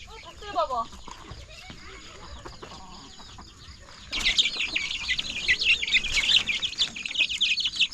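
A flock of about fifteen grown chicks chirping and peeping in a rural mountain setting, bursting into a dense, busy chorus after a quieter stretch with some wing flapping, while people talk nearby.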